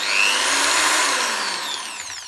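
A Mac Allister 600W hammer rotary drill spins freely at its slowest setting, giving a steady, loud, close whine that holds evenly and then eases off slightly near the end, with no talking.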